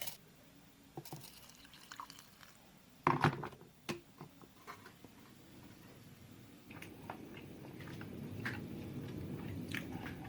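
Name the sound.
chewing cold kimchi dumplings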